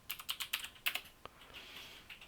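Quick keystrokes on a Mac computer keyboard as a command is typed into Terminal, a close, crisp burst of clicks followed by a few spaced single taps and a final key press, no talking.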